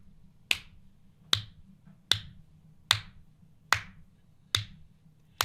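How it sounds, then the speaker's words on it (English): An audience claps along at a steady tempo, with seven sharp, clean claps spaced evenly just under a second apart over a low background hum. "I want you to just clap your hands with me"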